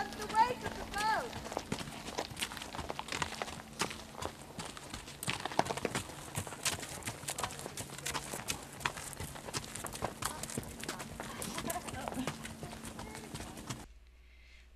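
Hooves clip-clop in an uneven, steady rhythm as horses walk on a hard surface in New Zealand, with people talking over the footsteps throughout.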